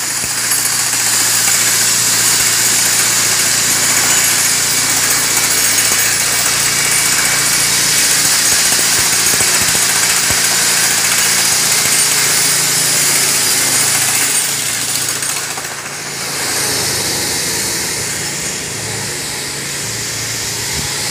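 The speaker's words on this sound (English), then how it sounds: "we've started our concrete cutting" A concrete cutting saw runs continuously at a construction site trench job, a loud steady high-pitched engine whine and grinding drone with no breaks, briefly dipping near the end.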